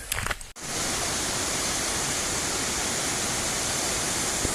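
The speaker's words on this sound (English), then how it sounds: "Falloch Falls, I presume" Falloch Falls on the River Falloch pours as a constant loud white rush after a brief rustle at the start, steady and close with no talking.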